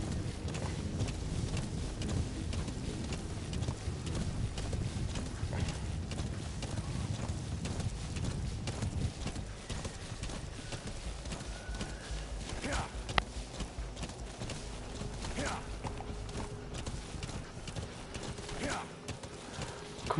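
A horse in the video game Metal Gear Solid 5, set in Afghanistan, trots with rapid hoof clip-clops under wind noise, while a player talks over the game sound.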